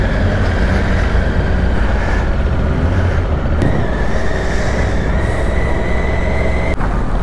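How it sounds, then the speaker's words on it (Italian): A noisy car at a port rattles and rumbles continuously as if full of nails, a dense steady clatter with engine drone and no clear pauses, plus a couple of sharp metallic clicks. "Che rumore è quest'auto, ma che hai, chiodi?"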